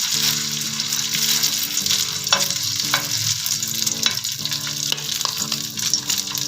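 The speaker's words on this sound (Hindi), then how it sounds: "जैसे ही ऑयल गर्म होता है तो फिर हम अपनी फ्राइंग स्टार्ट करते हैं" Maggi noodle kebabs fry steadily in hot oil, a continuous close sizzle with occasional crackles and stirring clicks, no voices.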